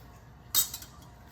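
A metal lid is set onto a cooking pot of peanut butter soup, giving one short, bright clatter with a brief ringing tail and a faint second clink, close and alone.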